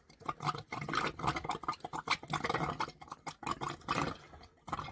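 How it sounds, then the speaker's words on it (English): Caravan water tank filling up, with air gurgling and burping through the pipes in irregular wet bubbling bursts, close and moderately loud with no talking. "I think the water tank's starting to get full."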